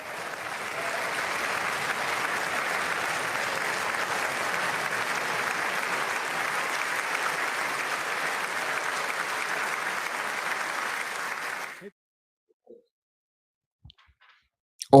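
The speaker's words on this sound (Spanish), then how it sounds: "Ovación." Sustained ovation from a large State of the Union audience for Secretary of State Marco Rubio, dense clapping holding steady for about twelve seconds before cutting off abruptly into near silence.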